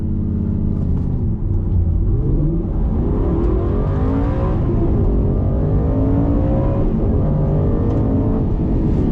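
An Aston Martin Vantage N430 sports car accelerates hard from a standstill toward 100 km/h, its loud engine note rising steadily through the gears in close, continuous roaring sweeps with no talking.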